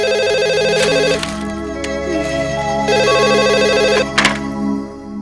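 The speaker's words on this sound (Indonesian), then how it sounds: "Itu mungkin telepon dari Mas Handi" A telephone rings loudly and steadily in repeated electronic ringtone bursts, with a few brief clatters near the end and no voices.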